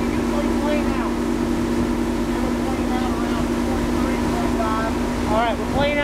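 A 2003 Sea Fox 257 WA motorboat runs at speed on the water: a steady, loud, continuous engine drone with constant hum and rushing wind and water noise throughout.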